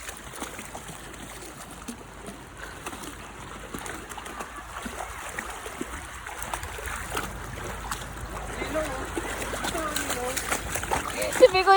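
Bikoy the dog jumps and splashes in water during a swim, giving repeated irregular splashes and sloshing that build toward the end, heard beneath people talking throughout.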